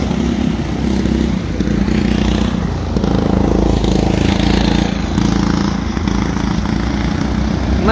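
Go-kart engines drone loudly and continuously close by during a race, with a buzzing, rough tone that swells and fades slightly as karts pass and jostle.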